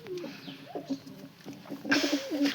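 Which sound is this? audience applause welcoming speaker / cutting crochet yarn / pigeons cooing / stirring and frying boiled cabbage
pigeons cooing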